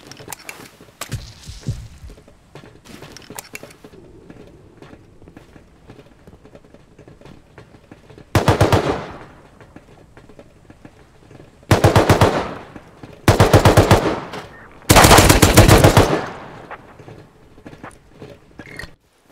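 Gunfire in the survival video game Rust: a few scattered shots early, then four loud bursts of rapid automatic fire a couple of seconds apart, the last the longest, with no talk.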